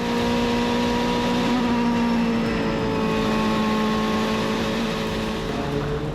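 A race car engine roars steadily at high speed, about 280 km/h, at Sydney Motorsport Park, loud and sustained, with a slight shift in pitch as it passes.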